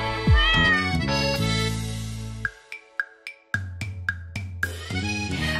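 A cartoonish cat meows several times in a children's counting song, with repeated short meows over bright sung music and backing instrumentation.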